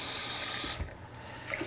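Water runs from a kitchen sink tap to measure about one and a half cups, a steady close hiss that cuts off after under a second, followed by a few faint knocks.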